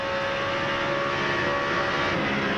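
A stock car engine at high RPM during the 2002 Pennsylvania 500, a loud, sustained steady roar that never lets up, with no talk over it.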